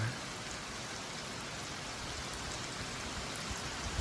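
Steady rain falls through the whole stretch, a dense, even patter of drops on surfaces at moderate loudness, with no voices.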